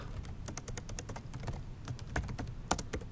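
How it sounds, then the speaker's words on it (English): Rapid, uneven keystrokes patter on a computer keyboard while Java code is typed, a steady run of close, light clicks with no talking. "so I started typing this out"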